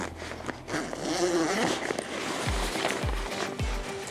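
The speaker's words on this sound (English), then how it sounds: "Unzip both sides, starboard and port." A zipper is pulled open on the bimini top boot of a 2023 Sylvan Mirage 8522 pontoon boat, a close rasping zip over faint outdoor background, followed by a few soft thumps.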